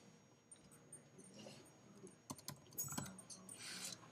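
Faint, close clicking of a computer keyboard in short irregular runs, quiet beneath room noise and picking up toward the end, with no voice present.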